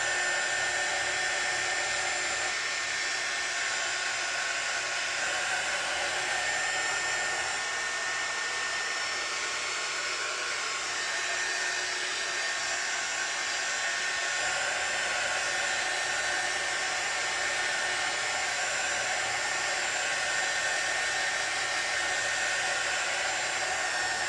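A craft heat tool force-drying ink roars in a constant, close, breathy hiss for the whole stretch, steady and uninterrupted, with no talking over it.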